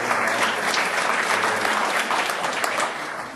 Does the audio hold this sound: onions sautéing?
no